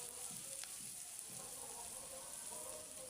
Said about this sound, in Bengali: তারপরে পেঁয়াজগুলো একটু ভাজা ভাজা